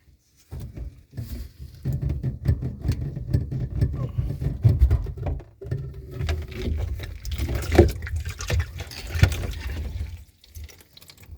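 Water drains from a disconnected Samsung dishwasher hose into a bucket, a close, uneven splashing and trickling that runs in bursts for about ten seconds.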